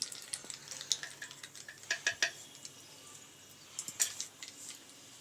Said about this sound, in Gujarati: આ રાઈ જીરુંને આપણે ફૂટવા દઈશું.